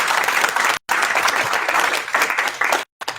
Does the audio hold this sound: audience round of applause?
yes